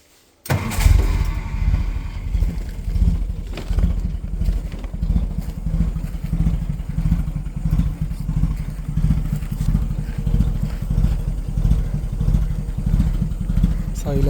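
An old Willys jeep with its original petrol Hurricane engine, an exhaust silencer with a small hole, starts abruptly and then runs at a loud, close, throbbing idle with a steady pulsing rhythm.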